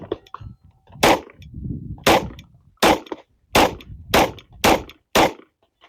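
Seven loud, sharp pistol shots from an RIA DY9 9mm on an outdoor range ring out about a second apart, each with a short echo trailing behind.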